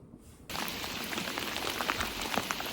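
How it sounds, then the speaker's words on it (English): Rain begins suddenly on a boat at sea, a dense steady hiss of drops striking the deck and surfaces close around, constant from onset with scattered louder patters, no voices. "Looks like rain is coming over there from the west."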